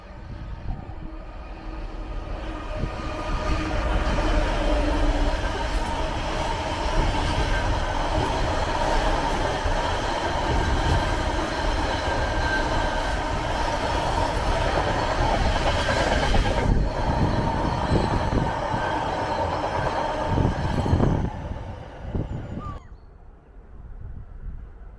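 Freight train running from Appleford Sidings to Milford West passes close by, a loud continuous roar of wagons with rhythmic wheel clatter, fading toward the end.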